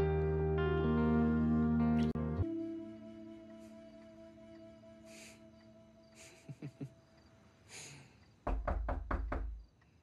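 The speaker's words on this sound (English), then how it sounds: "someone's at the door." Someone raps on a door in a TV drama scene: a quick cluster of several sharp, close knocks near the end, following sustained tonal music and quiet room ambience.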